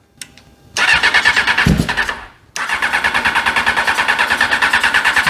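A custom ATC600R streetbike engine cold-starting with the chokes on: a brief click, then cranking that catches and stumbles, dips, and settles into a loud, steady pulsing idle up close.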